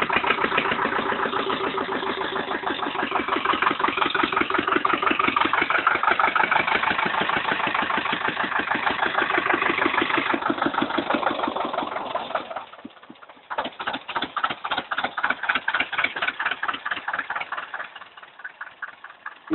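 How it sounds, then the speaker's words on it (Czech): Zetor 25K tractor engine idles after its first start, a close, even diesel chug with fast regular beats that stumbles and dips briefly, then resumes and slows toward the end. "Traktor běží."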